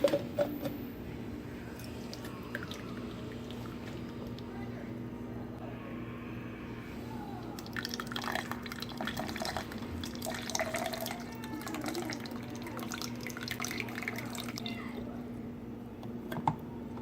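Water trickles and drips from a ZeroWater purifier into a small cup, a soft, close, steady pouring with scattered drip splashes over a low constant hum.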